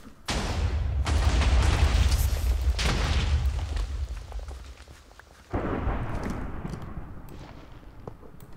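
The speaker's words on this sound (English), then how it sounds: "Cool guys don't look at explosions." Two heavy, booming Minecraft TNT blasts, each with a long rumbling tail, the second quieter and more distant-sounding than the first.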